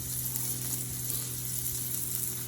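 Thick bacon sizzles on a Blackstone flat-top griddle in a steady, even hiss with a constant low hum underneath, and nobody speaks over it.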